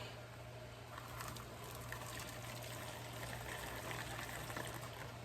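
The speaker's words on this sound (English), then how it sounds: "Our potatoes are done. I need to save about a cup of this water." Water from boiled potatoes is poured off in a steady, faint trickling stream, splashing gently throughout over a low background hum.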